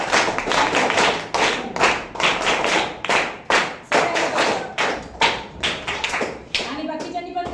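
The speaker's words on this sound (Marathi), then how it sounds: "सगळ्यांसाठी टाळ्या वाजवा" Children in a classroom art and craft session clapping, a series of sharp hand claps and thuds in uneven bursts, close and loud, with a little voice mixed in.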